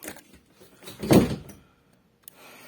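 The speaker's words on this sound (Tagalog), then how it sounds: "Siguro sasarado ko yung pinto para hindi magising yung" A single soft thud of a door swinging shut, close by, followed by a faint click and quiet room tone.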